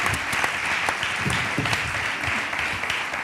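Steady, dense applause from an audience at a live interview event, filling the whole stretch at an even level with many overlapping claps and some low murmur underneath.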